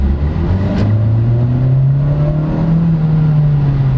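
A 2012 Mitsubishi Lancer EX GLX with four-speed automatic is floored, its engine droning loud and close as the revs climb steadily toward the red line, heard from inside the cabin.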